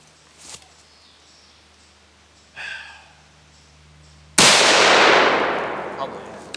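A .22LR rifle fires one loud, close shot outdoors that rings out and fades slowly over a couple of seconds, preceded by a few faint handling clinks.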